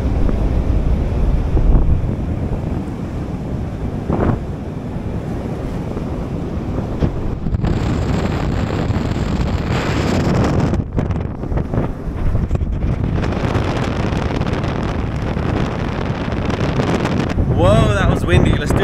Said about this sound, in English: Whoa, that was windy.